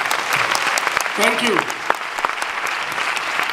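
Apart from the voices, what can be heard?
audience applause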